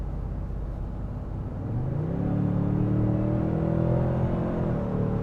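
A Toyota Sequoia hybrid truck accelerating, engine and drivetrain rising from a low rumble into a steady, climbing whir heard from inside the cabin; no talking.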